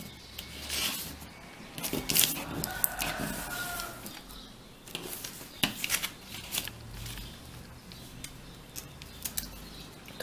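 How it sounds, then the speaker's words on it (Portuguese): A neighbour's rooster crows faintly in the early morning, a drawn-out call behind nearby sharp snips and paper handling. "Vê que o galo do vizinho tá que canta"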